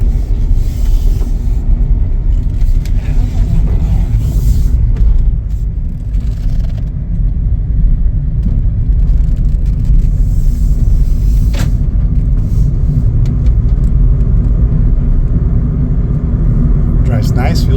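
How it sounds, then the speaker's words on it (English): Chevrolet City Express LT cargo van on a test drive, heard from inside as a steady, close engine and road rumble that runs without a break for the whole stretch. "Take it for a little test drive here."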